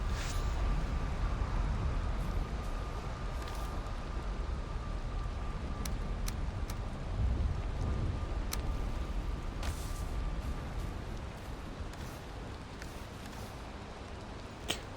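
Steady, dense rain hiss from a thunderstorm in the Valheim video game fills the whole stretch, loud and unbroken, with a few faint sharp ticks over it.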